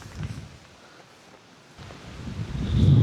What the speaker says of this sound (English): Those gusts are interesting.